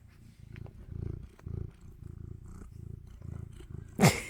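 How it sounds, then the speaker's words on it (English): A cat purrs steadily and close by in a low rhythmic rumble, with a short sharp higher sound bursting in near the end. "Listen to this purr."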